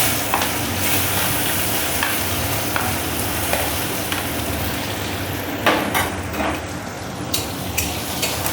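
Chopped onions fry in hot oil for a potato and tomato curry, a dense close sizzle with spoon knocks and scraping against the pan, no talk.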